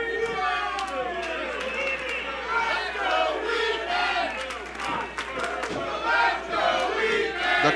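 A wrestling show crowd roars and shouts continuously, with chanting voices and cheers rising and falling, fairly distant and dense.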